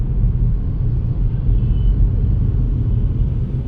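Road traffic in Delhi between Defence Colony and Badarpur forms a steady, loud low rumble of vehicles, continuous and even throughout with no voices heard.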